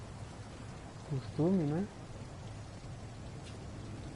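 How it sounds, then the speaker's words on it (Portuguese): Steady rain hiss from a video game set outside Brandenburg hospital, constant and moderately loud across the whole stretch, with a brief spoken phrase over it near the middle. "Tá chovendo."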